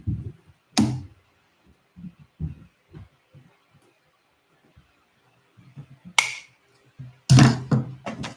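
A leather mountain saddle bag has rivet holes punched through it: a few soft, low thumps, then sharp tapping strikes, spaced apart with quiet gaps and growing louder toward the end.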